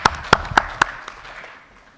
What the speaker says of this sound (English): I'll clap by myself